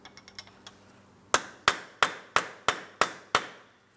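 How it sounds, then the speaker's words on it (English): Seven sharp metallic hammer strikes on a punch against a front transmission axle shaft of a 2004-2008 Pontiac Grand Prix ring out at a steady rhythm, close and loud, after a few lighter taps. "we're using a hammer and punch directly in the center of the axle shaft"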